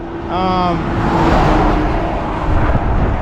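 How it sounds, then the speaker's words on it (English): Road traffic passes a roadside stop near a lookout, a steady broad vehicle rumble swelling and fading over a few seconds, with a brief tonal horn-like sound early on. "I'll let this traffic pass just 1 sec."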